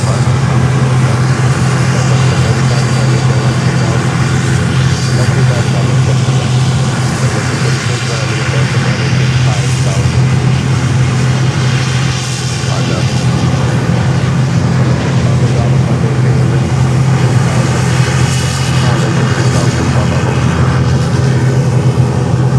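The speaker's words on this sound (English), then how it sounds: "And we have another United coming in from Chicago. United flight 1538. And that's a 321 Neo." A United Airlines Airbus A321neo arrives at Fort Lauderdale airport with a continuous loud jet rumble holding steady, with a person talking over it.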